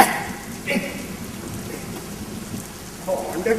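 Steady rain hisses across a stage drama performance, a dense continuous patter with a few louder bursts near the start and end.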